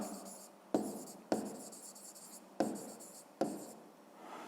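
Pen strokes on notebook paper during a fifth-grade math lesson: several short bursts of writing, each starting with a sharp tap and trailing off, alone and close.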